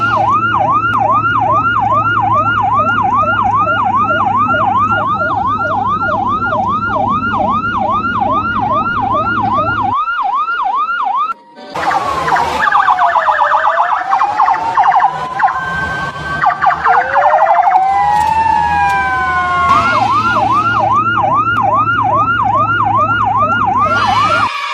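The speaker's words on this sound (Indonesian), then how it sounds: "Wah, mobil ambulan teman-teman." A toy ambulance wails its siren loudly and up close, a rapid repeating electronic yelp that cuts off, shifts to a slower up-and-down wail for several seconds, then returns to the fast pattern.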